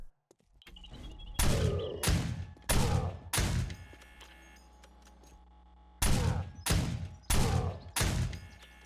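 SMG and junk turrets fire at zombies in the game 7 Days to Die, Alpha 20: loud rapid bursts of automatic gunfire come in clusters, pause, then resume in another run of close, heavy volleys.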